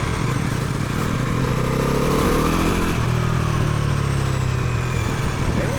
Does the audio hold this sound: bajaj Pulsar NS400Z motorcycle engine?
yes